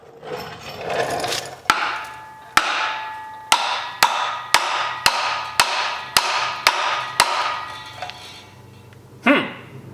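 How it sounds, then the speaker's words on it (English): A hammer strikes about a dozen times at a steady pace, each blow a sharp ringing knock, close and loud. "Where's my hammer?"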